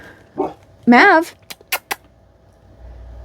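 A pet dog named Maverick gives a few close yips and barks indoors, one drawn-out whining bark followed by short sharp clicks and snaps.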